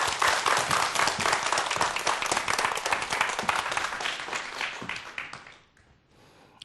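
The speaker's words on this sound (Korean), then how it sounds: "큰 박수로 강연자 모셔볼게요." Loud, dense audience applause welcomes a lecturer onto the stage at a science talk about rockets, holding steady for several seconds and then fading away into quiet.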